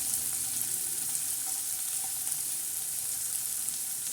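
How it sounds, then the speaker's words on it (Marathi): Tomato and onion sauté in a pan for a drumstick and moong dal dish. A continuous hissing sizzle carries light stirring taps throughout and no talking. "टमाटे आणि कांदा असा मस्त आता परतवत आहोत."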